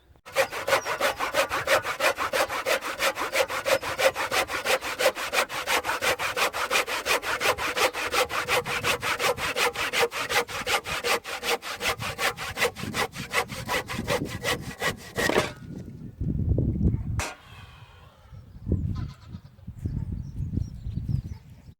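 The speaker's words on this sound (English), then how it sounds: "Bloody thick wood to cut with a handsaw" Handsaw cutting through thick wooden posts for a polytunnel frame, fast rhythmic back-and-forth strokes up close for about fifteen seconds, then stopping, followed by a few thuds and rustles.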